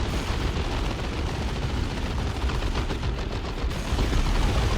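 Dense, continuous battle gunfire from the Dawn of War 2: Retribution strategy game, with rapid overlapping shots and pistol fire forming a loud, crackling barrage that swells slightly near the end.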